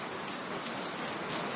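Steady rain falls in a dense, unbroken hiss at moderate loudness, with no talking heard.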